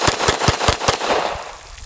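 A 1911 pistol chambered in .45 ACP fires a rapid string of about six loud, closely spaced gunshots at a steady pace, with the sharp reports ringing out and fading behind the final shot.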